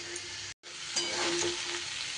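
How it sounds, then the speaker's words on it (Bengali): Snake gourd stirred with spices in a hot frying pan gives a steady, close sizzle with soft scraping strokes, broken by a brief dropout before the frying resumes and grows a little louder. "চিচিঙ্গে এইভাবে মশলার সাথে ভালো করে মিশিয়ে একটু সময় এইভাবে নাড়াচাড়া করে নিচ্ছি"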